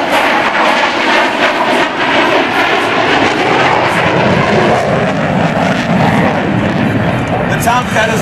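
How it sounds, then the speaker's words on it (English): An F-14 Tomcat jet makes a knife-edge wing-sweep pass at an air show, a loud, continuous roaring engine blast that dominates throughout. "Now, from the right, the Tomcat knife edge wing sweep pass."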